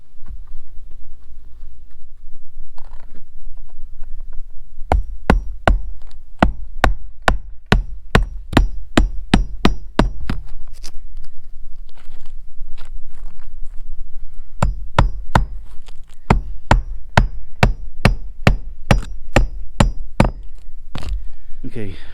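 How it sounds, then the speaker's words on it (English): Sharp hammer blows ring out in fast, regular bursts as nails are driven into a roof to patch a hole poked by a tree, with a short pause midway and a second run of strikes, close and loud. "I will go get a couple of nails and just nail it down"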